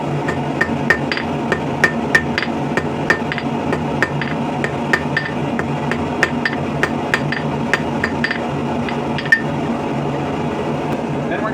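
A hammer tapers one end of a scrap-steel handle in a blacksmith shop, striking in a brisk, even rhythm of metallic clinks that continues throughout over a low steady background hum.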